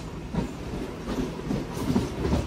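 An Anantapur–KSR Bengaluru MEMU passenger train, number 66560, running along the line near Penukonda, with a continuous rumbling ride and faint rhythmic wheel clatter heard from inside a carriage.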